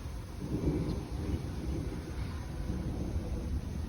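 Low, rolling thunder from an approaching storm rumbles steadily in the distance, a faint storm sound with no other noises over it.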